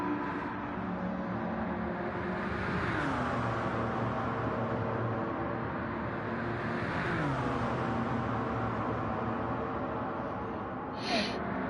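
Race cars in a sim racing game roar past in two loud engine sweeps, each rising and falling in pitch as it passes, with steady engine drone between them.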